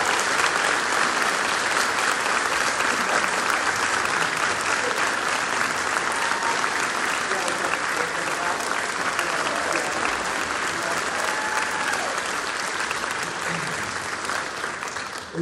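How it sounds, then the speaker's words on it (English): A large audience at a high school band concert applauds for a long stretch, dense and continuous clapping that holds level and only softens slightly near the end, with murmured voices beneath. "please give a round of applause for Austin Guillen on Alpha's side"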